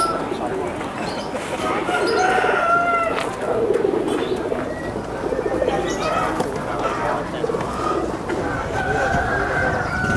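Pigeons coo repeatedly in low, throaty bursts, close up at a pigeon market in Wonosobo, with some fluttering and background chatter mixed in.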